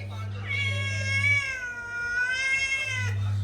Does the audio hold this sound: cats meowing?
yes